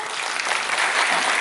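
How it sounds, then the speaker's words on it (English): An audience claps at a public lecture on green technology and R&D: dense, steady applause from a crowd, continuous and fairly loud throughout. "Thank you for the claps."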